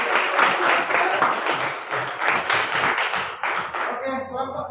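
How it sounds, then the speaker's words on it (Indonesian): A classroom of students claps hands in a quick, close burst of many overlapping claps that tapers off after about four seconds, with voices audible beneath it. "Ya, beri tepuk tangan dulu."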